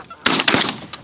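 Shotgun blasts during a goose hunt, two loud sharp reports close together followed by a fainter third shot, with no talking.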